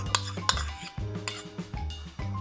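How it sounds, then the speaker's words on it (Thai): Curry being stirred in a pot, a Thai chicken massaman with potatoes, onion, palm sugar, fish sauce and tamarind, gives a few sharp utensil clinks against the pot over a steady low bubbling simmer, close and fairly quiet. "ก็คนนิดหน่อยนะคะ"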